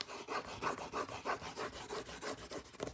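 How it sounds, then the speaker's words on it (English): Paper being burnished onto a mini scrapbook album page, a close, steady back-and-forth rubbing with even rhythmic strokes about three per second, dry and scratchy, without talk. "and then you burnish the paper on there."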